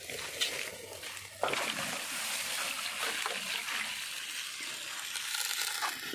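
Water splashes and sloshes steadily while plants are watered, with a sudden gush partway through and a constant wet hiss, close by.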